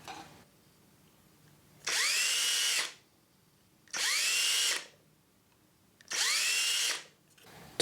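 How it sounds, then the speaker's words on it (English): A power drill fitted with small bits bores holes into the plastic muzzle of a DL-44 blaster held in a vise, three separate whirring bursts of about a second each with quiet pauses between. "A 1/16 inch bit was used to drill the pilot holes, followed by a 3/32 inch bit to widen the holes."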